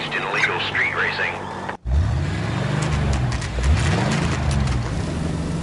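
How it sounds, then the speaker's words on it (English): Street-racing cars in the 1940s Los Angeles of LA Noire, engines revving and rising in pitch through repeated accelerations, heard beneath a police radio dispatch voice. "Suspect vehicles engaged in illegal street racing."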